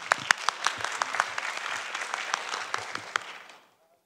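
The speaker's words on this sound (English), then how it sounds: "Let's welcome with round of applause." Conference audience applauding to welcome a speaker, a crisp burst of many hands clapping with distinct individual claps, steady for about three and a half seconds before cutting off into silence.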